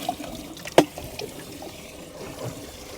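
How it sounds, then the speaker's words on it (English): Live shrimp are poured from a container into ocean water on a flats boat: a soft trickle and one sharp splash, close by against quiet outdoor background. "let's just pour all the shrimp out"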